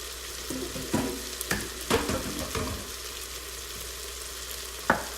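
Fideo noodles cook in a pot with a soft, steady sizzle, broken by several sharp scraping and stirring clatters of a utensil against the pot.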